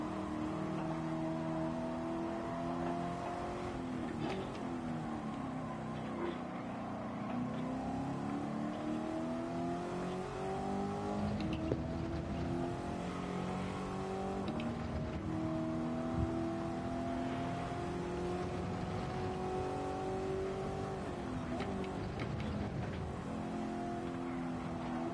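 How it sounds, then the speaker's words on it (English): De Tomaso Pantera race car in a TransAm series practice session, a loud, continuous engine note climbing and falling through revs and gear changes, up close and steady throughout. "I love the sound of that Pantera of yours."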